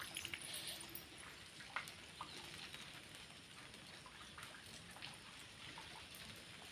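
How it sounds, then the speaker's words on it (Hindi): Soft, steady patter of light rain with scattered drips, faint and even, with occasional distant bird calls. "अभी हल्की हल्की बारिश हो रही है"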